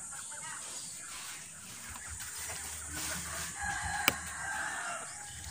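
Chickens on a hillside farm: faint clucking and crowing mixed into steady outdoor background noise, with a sharp brief click near the end, no talking heard.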